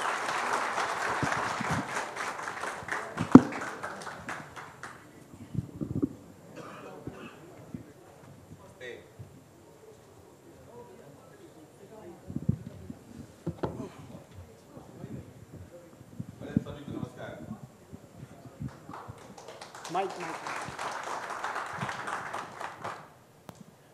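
Audience applause on the Bihar Ki Baat stage welcoming industrialist and BJP leader Ajay Singh, clapping at the start and again near the end, with talk and scattered sounds in between.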